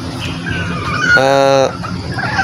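Newly hatched chicks, part of a clutch of nine hatched from eleven eggs under a broken incubator, peep in a burst of high, harmonic calls over background chatter.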